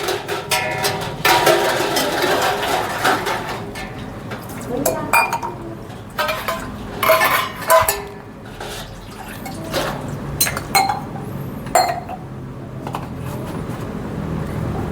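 Pots, pans, glasses and cutlery are scrubbed and rinsed with liquid soap in a household setting, making loud clinks and clatters mixed with dripping and running water. Voices talk intermittently over the washing.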